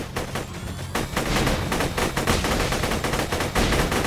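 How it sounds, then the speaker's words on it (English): Rapid, continuous gunfire from Borderlands 2, dense overlapping shots and explosive rounds crackling loudly and nearly without pause throughout. "Mine shoots 2 rounds per bullet."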